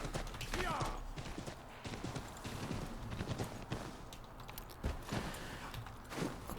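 A horse ridden in the Assassin's Creed III video game clip-clops at a steady walking pace, soft hoofbeats with faint game ambience behind.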